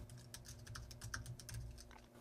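Quiet, close typing on a computer keyboard while filling in a software registration form, a quick irregular run of soft key clicks.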